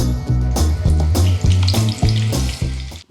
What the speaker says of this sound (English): first we're going to fry this plantain